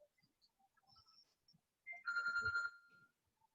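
A phone rings with a bright electronic ringtone, one sustained trill burst after a few faint scattered clicks and tones, fairly close and alone with no talk over it.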